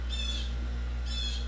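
Twice, about a second apart, a pet bird squawks indoors in a room, with each call short, sharp and fairly close over a low steady hum.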